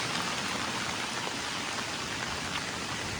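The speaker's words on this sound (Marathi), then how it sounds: "पाऊस काय थांबत नाही, पण मी बाहेर आले तरी पण पाऊस थांबत नाही." Heavy monsoon rain falls steadily over a Konkan village, a dense, even hiss of drops striking surfaces, continuous and enveloping with no pauses and no voices.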